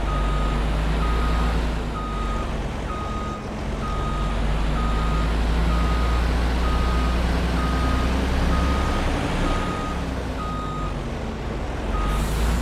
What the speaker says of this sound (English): I'm going to back around into the grain store with the truck, and then I can back the trailer in too